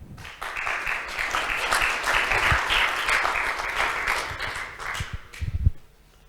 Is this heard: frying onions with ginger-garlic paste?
no